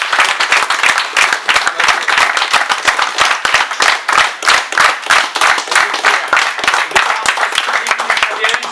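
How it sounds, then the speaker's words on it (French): A crowd claps in rapid, dense bursts, close and loud throughout, at an end-of-tour speech for an under-17 team. "j'aimerais qu'on leur fasse un gros banc et un gros applaudissement"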